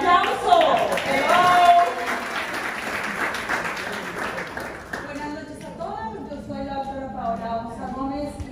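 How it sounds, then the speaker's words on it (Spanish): An audience at a reception for a specialized training program in Miami breaks into applause, loud and dense at first, then thinning into scattered claps while voices rise over it. "¡Un aplauso!"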